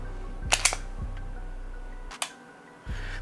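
Canik TTI Combat pistol from Taran Tactical being dry-fired: a few crisp, close mechanical clicks of the trigger breaking and resetting, quiet against a steady low hum, with no talking.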